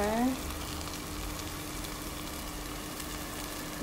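Spices sizzle in a hot frying pan of oil for shakshuka, a steady broadband crackle close by that holds from start to end, with a brief stir or clink at the very beginning.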